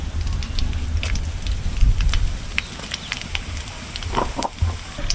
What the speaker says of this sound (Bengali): এখন আমি গোটা জিরে আর তেজপাতা দিয়ে দেবো ফোড়নে